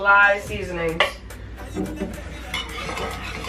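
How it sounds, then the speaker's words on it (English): A spoon stirs Jamaican cornmeal porridge in a pot, making clinks and scrapes against the metal. Someone talks over the stirring. "keep stirring it up, stirring it up"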